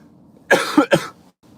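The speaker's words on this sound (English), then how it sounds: "I've got a bad cough" A single person's cough, a quick burst of two harsh chesty barks close to the microphone, then quiet.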